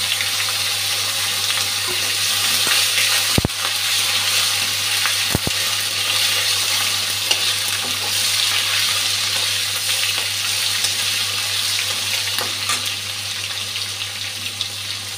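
Tomatoes dropped into hot oil with fried dried chillies, bay leaf, green chillies and five-spice, giving a steady broadband sizzle and crackle throughout, with a few sharp clicks and no talking.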